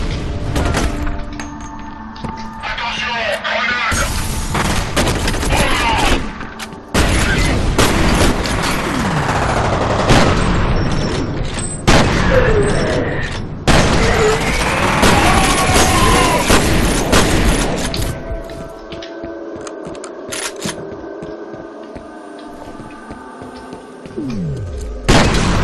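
Gunfire in the video game F.E.A.R., with repeated loud booming shots and bursts in clusters, crashing impacts between them, and quieter stretches of game ambience near the end.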